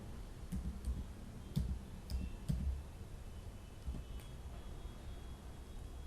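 A computer keyboard is tapped in a quiet room, with a few sparse, soft clicks spread irregularly over a faint steady background hum.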